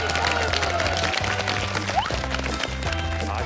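Studio audience applause on a Korean TV talk show fills the whole short stretch as steady, dense clapping, loud and close, with a bed of music running underneath.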